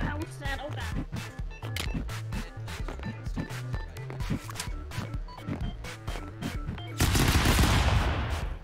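Rapid gunfire bursts and impacts from the stick-figure brawler game Stick Fight rattle over looping game music, ending in a louder sustained blast of noise near the end.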